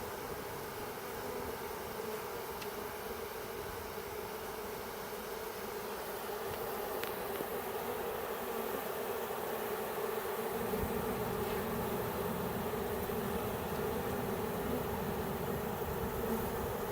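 A honeybee swarm moving into an empty hive box makes a dense, continuous buzzing close by. The hum is steady and fills the whole stretch with no talking.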